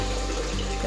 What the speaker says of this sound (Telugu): వాటర్ పోసుకుంటున్నాను అండి